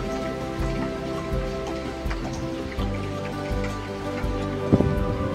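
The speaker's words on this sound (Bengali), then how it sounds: "মুষলধারে বৃষ্টি পড়ে যাচ্ছে" Heavy downpour falling outside in the early morning, a dense steady wash of rain drumming on surfaces with patters and occasional louder drips, no voices.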